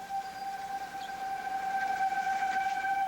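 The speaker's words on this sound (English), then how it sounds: "Sirens ring out across Lawrence as a tornado gets ready to drop down on the southwest part of the city" Tornado warning sirens in Lawrence, Kansas, during the May 2003 tornado wail in a steady, sustained tone, sounding from a distance across the open air without any break.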